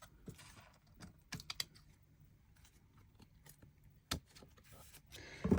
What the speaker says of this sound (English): perhaps I will use the scissors on that